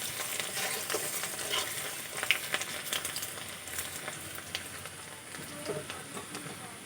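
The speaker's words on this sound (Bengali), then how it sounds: "রসুন কুচিটা হালকা করে ভেজে নেব।" Chopped garlic frying lightly in oil for a fish-head moong dal, a close, steady sizzle with frequent crisp crackles and scraping stir strokes at moderate volume, no talk.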